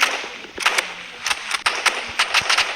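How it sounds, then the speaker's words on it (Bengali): Assault rifle gunfire in the shooter game Rivals, fired in short repeated bursts of sharp cracks over steady game background noise, with no talking. "আমাকে অ্যাসল্ট রাইফেল নেওয়া লাগবে"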